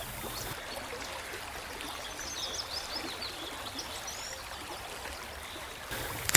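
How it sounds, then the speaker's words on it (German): River water near water hyacinths along the Nile laps and trickles softly in a steady, gentle wash, with faint bird chirps high above and no voices. "Ein leises Plätschern."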